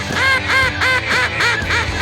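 Duck call blown by hand to imitate a duck, giving about eight loud, nasal quacks in a steady rhythm, close up with no talking.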